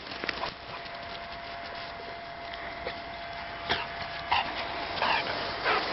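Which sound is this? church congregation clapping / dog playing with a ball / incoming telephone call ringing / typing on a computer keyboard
dog playing with a ball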